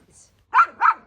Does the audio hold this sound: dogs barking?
yes